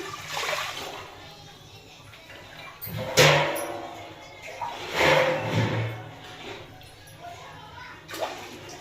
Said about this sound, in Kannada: ನೀರು ಹಾಕ್ತೀನಿ ಈಗ ನಾನು